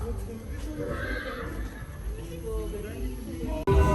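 A horse neighs amid a tourist setting at a replica Colosseum attraction, the whinny and some hoof clip-clops sounding over steady crowd chatter and background voices, followed by a brief cut to a louder, different scene at the end.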